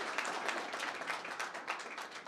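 Applause from an audience at an event honouring a young chartered accountant, steady dense clapping filling the whole stretch at moderate level with no talk over it.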